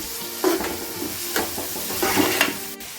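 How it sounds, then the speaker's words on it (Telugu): Onions sizzle and crackle in hot oil for an egg dum biryani, with steady frying hiss broken by a few louder stirring scrapes, close up and with no talking. "ఇప్పుడు ఇదే ఆయిల్లో ఆనియన్స్ వేసుకుంటున్నాను. బ్రౌన్ కలర్ వచ్చే వరకు ఇవి వేయించుకోవాలి."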